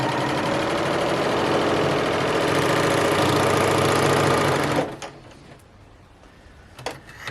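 Sewing machine running steadily while stitching the shoulder seam of a knit tee, a loud continuous mechanical whir for about five seconds that then stops, leaving quiet handling noises.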